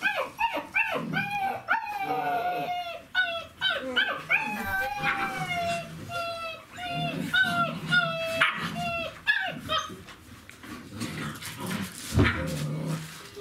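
Forty-day-old Czechoslovakian wolfdog puppies whine and yelp in overlapping high, wavering cries behind a barrier, close and continuous, with a few short barks mixed in.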